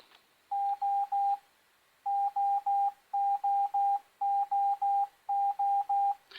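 A Morse code letter sounds as steady beeping tones, the same three-beep pattern repeated five times with short gaps, clear and close, with no talking.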